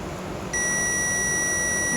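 A steady high-pitched electronic beep starts abruptly and holds continuously, a multimeter tone over faint background hiss, while testing a Rockville powered subwoofer box.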